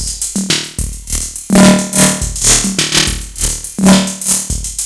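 Pulsing, repeating synth-like tones smeared by a warbling modulating delay with boosted feedback, echoes piling up and swelling as the repeats build, loud and dense, with no speech.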